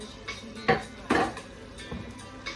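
A utensil stirring aubergine, courgette and fish in a pot, a few sharp scraping knocks against the pot spaced irregularly, fairly close and moderate in volume.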